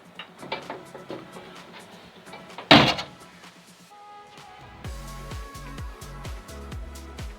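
A classic car's door is shut with one solid, sharp thunk partway through, among light mechanical clicks and small rattles nearby.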